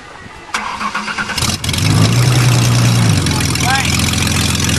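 A Mercury Sable's engine fires up and settles into a steady, loud idle close by, with a clunk as it catches and a brief rising squeal later over the drone; a person speaks during it.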